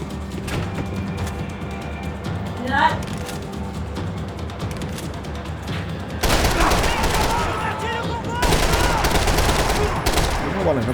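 Shotgun fire in Max Payne 3 comes over a busy game soundtrack, growing suddenly louder and denser partway through as heavy blasts pile up. A voice speaks now and then.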